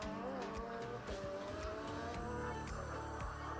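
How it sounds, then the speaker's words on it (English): A car engine revs hard with rising and falling pitch and tires squealing as it slides, a continuous racing roar throughout. "I'm liking of how the car drifts like this"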